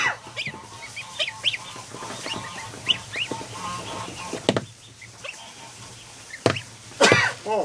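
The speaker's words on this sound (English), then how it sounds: "As soon as he heard the goose outside," Geese honk repeatedly outside near a barn, several calls overlapping at moderate distance, with a couple of sharper thumps toward the end.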